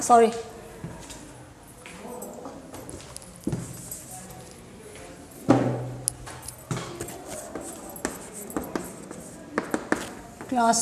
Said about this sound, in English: I'm going to write on the board